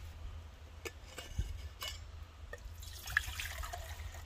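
Water poured into a pot on a camping stove at a stealth campsite, a few drips and small splashes at first, then a brief trickling pour near the end, faint and close, with no talk.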